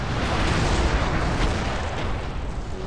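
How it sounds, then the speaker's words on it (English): Artillery barrages and explosions in Total War with Darth Mod, a dense continuous roar of booms and blasts that fills the whole clip, loud and unbroken, with no voices. "once they start firing their artillery at us"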